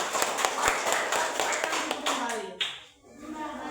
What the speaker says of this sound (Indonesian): Oke, tepuk tangan dulu untuk kita semua.